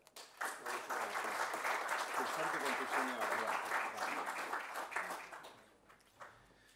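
Audience applause at the Premio Magnus 2014 awards ceremony, a dense burst of clapping that swells quickly, holds steady for several seconds, then thins out and fades near the end.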